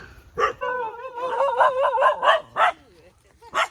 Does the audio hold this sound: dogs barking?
yes